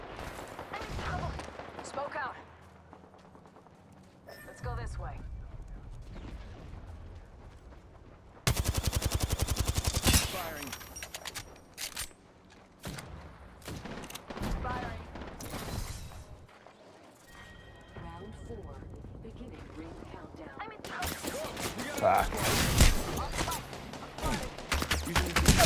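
Bursts of gunfire in a tactical shooter video game, loud broadband volleys and rapid fire coming in several clusters, the heaviest stretches near the middle and end, while players talk over the shooting.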